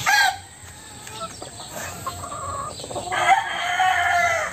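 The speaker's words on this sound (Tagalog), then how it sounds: "Ito yung brood hen." Chickens and a brood hen cluck on a poultry farm while a rooster crows, with a loud call at the start and another near the end and scattered clucks in between.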